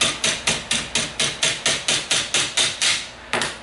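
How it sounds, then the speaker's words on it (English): A ball peen hammer taps a roll pin into a Magpul rifle stock, about a dozen sharp, evenly spaced metallic knocks close up, with a brief pause before a final strike. "take your ball peen hammer"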